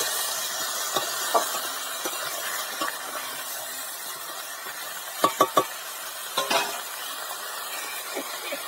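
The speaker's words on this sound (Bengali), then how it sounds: "সবজি দিয়ে খুব ভালো করে নেড়ে চেড়ে ভেজে নেব।" A steady frying sizzle of kohlrabi, aubergine and potato fills the background while a spoon scrapes and taps against the pan, including a quick cluster of three knocks midway.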